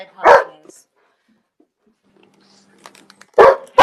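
Dogs bark indoors: one sharp, loud bark up close, then near-silence with faint rustling, then another loud bark a few seconds later.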